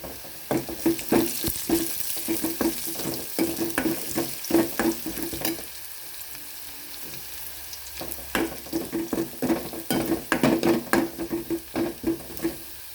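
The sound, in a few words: onions and curry leaves sautéing in a pan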